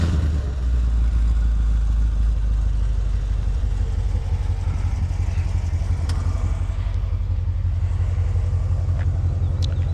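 A C7 Corvette idles steadily right after a very warm start, its low engine rumble close and continuous with light clatter throughout.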